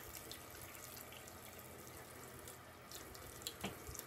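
Tap water runs steadily into a sink while a box cutter blade is rinsed between shaving passes, a faint, continuous hiss with a small splash near the end and no voices.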